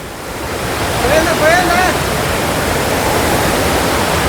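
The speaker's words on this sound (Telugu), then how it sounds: "blue colour water falls మసిలొద్ది water falls" Mashenu Loddi blue waterfall roars in a steady, loud rush of falling water over large rocks, with a brief high whistle-like call rising over it early on.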